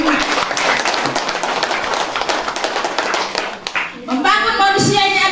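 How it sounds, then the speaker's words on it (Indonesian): Crowd at an outdoor campaign rally in a village, clapping in a dense, uneven patter for several seconds before fading, followed by a voice speaking loudly over a PA. "Tepuk tangan dulu, Kang."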